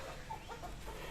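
Chickens clucking softly on a farm at their grazing time, a few brief close calls rising over a steady low background, with no voices.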